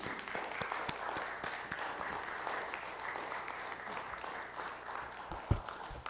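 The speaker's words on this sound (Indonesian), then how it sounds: "Sekali lagi kita berikan tepuk tangan yang meriah." Steady, moderately distant applause from a crowd at the official inauguration of first oil production at the Forel and Terubuk fields in Riau, Indonesia, continuing evenly throughout with one sharper thump near the end.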